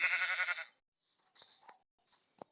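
A sheep in a video game gives one clear bleat, followed by short, faint game sound effects and small clicks, with gaps of near silence between them.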